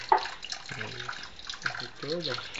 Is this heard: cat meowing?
no